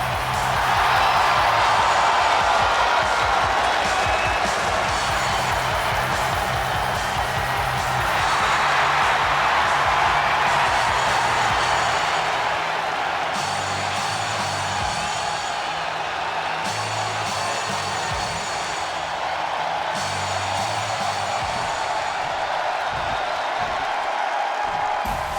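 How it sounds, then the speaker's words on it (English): Arena crowd in WWE 2K24 during a wrestler's entrance, a dense sustained roar of cheering and whooping that stays loud and constant under layered entrance music, without any clear talk. "This crowd is absolutely frenzied."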